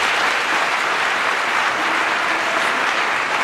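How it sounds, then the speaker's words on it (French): An audience at a political opposition meeting applauds continuously, a loud, dense, even roar of many hands clapping without pause or speech. "Applaudissez-les."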